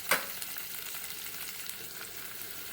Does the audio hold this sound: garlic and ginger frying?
yes